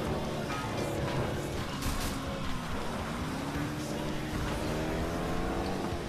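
A race car engine in the video game FlatOut 2 runs at about 200 km/h during an urban racing cup, a loud, steady high-revving whine with shifting engine tones and faint tire noise, continuous and close throughout.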